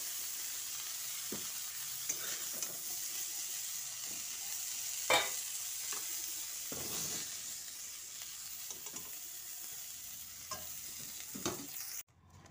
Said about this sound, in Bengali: ফুলকপিটা লাল করে ভেজে তুলে নিচ্ছি